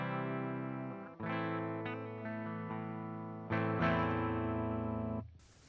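An electric guitar on a clean amp channel, played through an amp impulse response, rings out sustained chords that change a few times, close and fairly quiet, with no speech.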